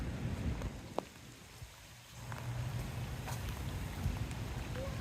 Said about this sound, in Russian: Вон дождик опять пошел